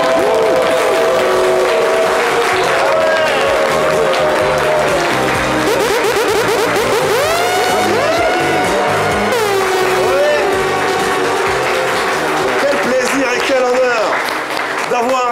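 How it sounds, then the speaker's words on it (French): Applause from a studio audience welcoming a guest onto a French-language talk show, mixed loudly with music throughout and continuing steadily from start to finish. "souhaitons tous ensemble, sous fond de musique, lumière et applaudissements, la bienvenue à Monsieur Nabil Adjami."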